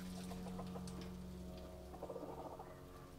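Farm hens cluck in short soft bursts close by, a few brief calls over a low steady background hum.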